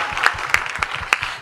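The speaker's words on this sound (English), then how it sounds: "I'm not hearing the applause loud enough." A conference audience applauds for Shobhaa Day, a brief burst of clapping with a few sharp, distinct claps standing out over a softer patter.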